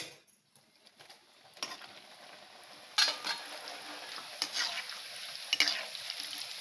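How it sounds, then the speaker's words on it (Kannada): Vada batter dropped into hot oil, a soft continuous sizzle and bubbling with a few sharp crackles and utensil clinks, quiet and close. "ಎಣ್ಣೆ ಬಿಸಿ ಉಂಟು ಒಡೆ ಹಾಕ್ತೇನೆ"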